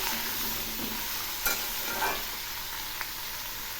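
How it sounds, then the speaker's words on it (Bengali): Bottle gourd frying in a pan while being stirred, giving a steady, fairly close sizzle with a few soft scrapes and taps from the spoon. "এখন আমি এগুলি নেড়ে দিচ্ছি। এই লাউগুলো খুব সুন্দর করে ভেজে নেব।"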